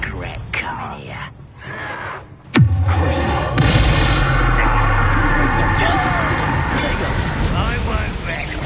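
A Bombarda spell explosion in Hogwarts Legacy: one sudden loud blast bursts out partway through and trails into a long roaring rumble amid ongoing battle noise and voices.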